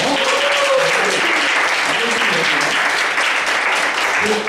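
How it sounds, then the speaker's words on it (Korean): A church youth congregation claps in welcome for a new member during Sunday worship, dense, loud applause filling the room continuously, with a voice faintly underneath. "잠깐 자리에서 박수 한번 주세요"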